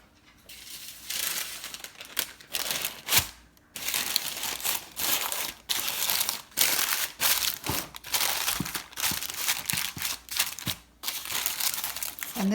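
Parchment paper crinkles and crackles loudly up close as it is pressed into a bread pan, in a long run of irregular rustling bursts with short pauses between.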